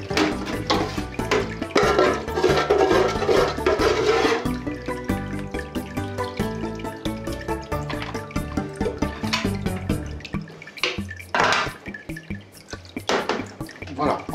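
Water drips and trickles off items set out to drain, a dense run of irregular close plinks and splashes with some running-water wash early on, and a voice talking over it.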